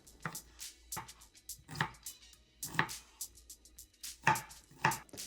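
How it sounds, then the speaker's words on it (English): A knife dicing an onion on a cutting board: a run of crisp, close chops in an irregular rhythm, some landing in quick pairs, with quiet pauses between and no voices. "once you've diced 1/2, then you do the same thing on the other half, and you got a full onion diced"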